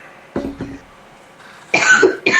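A few short coughs: two quick ones, a pause, then a harsher longer cough and another brief one right after, close to the microphone.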